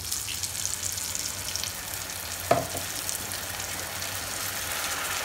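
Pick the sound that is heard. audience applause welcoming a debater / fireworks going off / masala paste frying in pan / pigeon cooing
masala paste frying in pan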